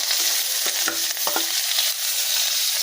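Ground ginger and garlic paste hits hot oil in a wok, spitting in a dense sizzle broken by several sharp stirring scrapes and clacks, close and fairly loud.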